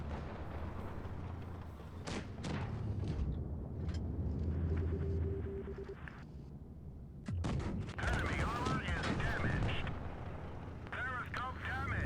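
Tank cannon shots from a D.W.2, a Tier IV German heavy tank in WOT Blitz, boom in sharp bursts around 2 and 7 seconds over a steady engine rumble, with someone talking throughout.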